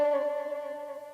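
A soloed melodic sample chop from a trap soul beat: a brief sustained tone with a rich harmonic stack that fades slightly over about a second, heard alone with no drums.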